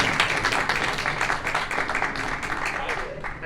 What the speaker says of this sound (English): Let's just give a wonderful round of applause for Precita Eyes and